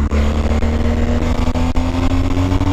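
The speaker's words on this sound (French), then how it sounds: "c'est un bicylindre donc faut quand même mettre un peu de gaz avant de redémarrer" A BMW R1250GS twin-cylinder motorcycle engine idles and revs steadily close by, a loud continuous droning hum with slight rises in pitch over a few seconds.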